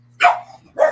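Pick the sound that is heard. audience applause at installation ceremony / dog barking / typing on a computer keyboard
dog barking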